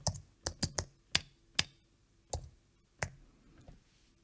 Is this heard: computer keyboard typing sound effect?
yes